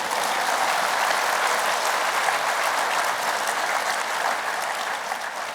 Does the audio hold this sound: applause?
yes